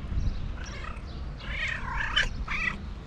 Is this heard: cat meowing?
yes